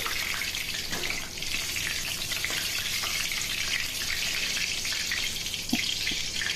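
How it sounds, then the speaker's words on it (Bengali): Sliced pointed gourd (potol) fries in oil over a medium flame, giving a continuous loud sizzle and crackle with a few faint clicks of the utensil. "এবারে ওই বাকি পটলটাও এই তেলের মধ্যে ছেড়ে দেবো একই রকমভাবে ওই মিডিয়াম ফ্লেমে পটলটাকে ভেজে নিতে হবে"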